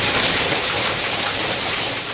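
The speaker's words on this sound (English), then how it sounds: "Man, listen to that hail." Hail pelts down in Lake Worth, Texas, during a severe storm, a loud, dense, unbroken clatter and hiss of stones striking surfaces close by.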